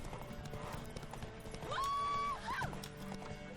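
Horse hooves clip-clopping at a steady pace during a horse race in The Witcher 3 video game, with a whinny and game music over the rhythmic hoofbeats.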